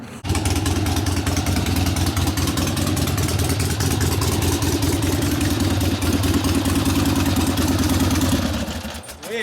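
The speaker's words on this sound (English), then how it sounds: "Damn, you're getting on the gas there this time." A 1970 Harley-Davidson XLCH Ironhead Sportster bobber runs close and loud, its engine revving hard in a sustained, throbbing roar before cutting off near the end.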